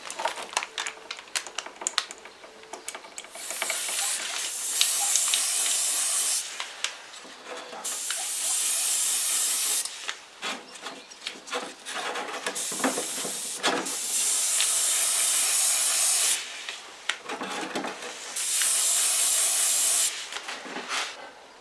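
A spray gun hisses in repeated bursts of several seconds each, spraying paint thinned half-and-half with cellulose thinners onto Dinky Toys model cars, with short pauses and light clicks between passes.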